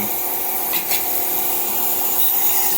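Steady, even rubbing of a blade during shop sharpening, a continuous close abrasive hiss that runs almost unbroken, with a brief stroke change near the start.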